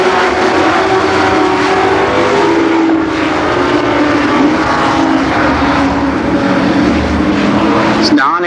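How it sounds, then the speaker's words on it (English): Race cars roar around Columbus Motor Speedway during an 8-lap heat race at a 1990 Labor Day event, a loud, continuous blend of engines droning and rising as the pack laps the track. "1 lap complete, 7 to remain in this 8-lap heat race."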